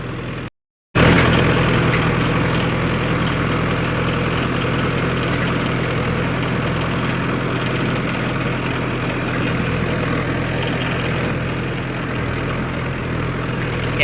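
A Mahindra Yuvo 4WD tractor engine runs steadily and loudly while working a small field, a constant close drone with a low rumble and no speech, after a brief dropout at the start.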